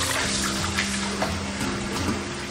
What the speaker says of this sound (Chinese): 接着再用流水多淘洗几遍。